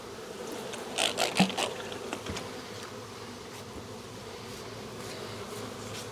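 Swarm of bees buzzing at a hive box, a continuous dense drone with several close, louder buzzes and scraping handling sounds early on.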